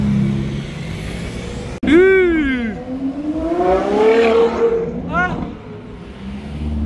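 A Ferrari 812 fitted with a Novitec exhaust blips its engine, a sharp rising rev followed by a falling roar and a second shorter rev, close by, with voices talking over the street noise.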